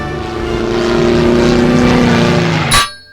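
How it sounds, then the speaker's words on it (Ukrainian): Airplane crash in a Simpsons video game: a loud, steady propeller-engine drone runs for nearly three seconds, then cuts off in a short burst as the plane crashes, followed by near silence. "Найкраща аварія літака в історії."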